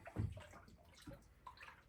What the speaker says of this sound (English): We just want to make sure we stir this up real good.